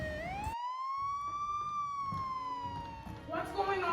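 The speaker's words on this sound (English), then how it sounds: "they come home from practice to find a police car with its lights on in front of the house" A police car siren sound effect wails in a stage show, one long rising-and-falling tone that is loud and sustained. It briefly cuts out early on, and a faint voice and stage noise come in near the end.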